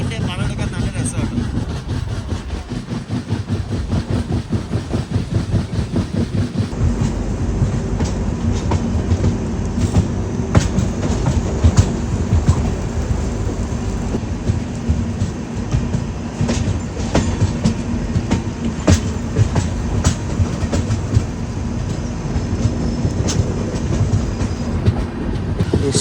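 An Indian train, the Panchaganga Express, climbs an incline past a station at night on its coastal Karnataka to Bengaluru run. The wheels clatter in a steady, close clickety-clack over the rail joints, backed by a continuous heavy rumble and faint wheel squeal.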